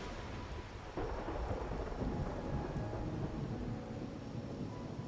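Heavy rain pours steadily in the video game Wuthering Waves, with a deep roll of thunder swelling in after the first second and rumbling on beneath the downpour. No one speaks.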